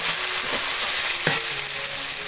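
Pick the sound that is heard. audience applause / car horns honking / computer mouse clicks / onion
onion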